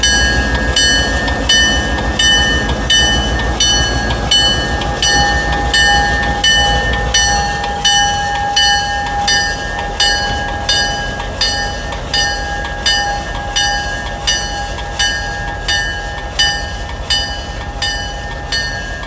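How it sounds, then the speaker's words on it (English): High hood diesel locomotive moving through a railroad museum shop area, a loud steady engine drone with a regular clickety-clack of wheels over rail joints that continues rhythmically throughout. "Now he's going to go up and hook on the other end of the train we were just on"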